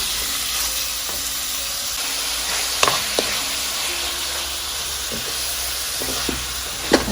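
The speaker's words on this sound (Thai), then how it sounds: "ตอนนี้ก็ใช้ไฟปานกลางนะคะ ใส่ผัดหมูของเราให้เขาเปลี่ยนสีก่อน" Pork belly stir-fries in a pan over medium heat for a lemongrass dish, giving a steady close sizzle with a few sharp scrapes and clinks of the spatula against the pan.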